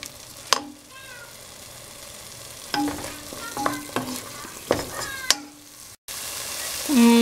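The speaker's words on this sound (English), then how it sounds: "After putting garam masala and coriander cumin powder, stir them for another 2 to 3 minutes" Malai kofte spices with garam masala and coriander-cumin powder sizzle in a pan, overlaid by sharp metallic scrapes and clinks from stirring, with a soft hiss between strokes.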